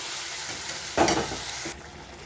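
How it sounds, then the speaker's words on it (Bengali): Tomatoes sautéing in a spice paste in a pan give a steady loud sizzle, and a short burst of stirring and frying noise comes partway through. No voices are heard. "এই টমেটোটাকে দিয়ে কিছুক্ষণ কষিয়ে নেব যাতে টমেটোটা গলে যায়।"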